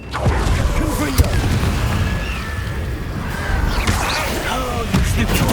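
A fiery Confringo spell blast in the video game Hogwarts Legacy booms loudly at the start, then rumbling impacts continue under dense game effects and character voices.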